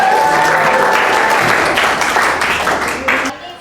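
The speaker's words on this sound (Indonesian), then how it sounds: "Oke, kasih tepuk tangan." A class of students applauds in a classroom, a loud dense burst of clapping lasting a few seconds before cutting off, with some voices mixed in.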